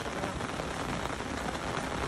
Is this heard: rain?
yes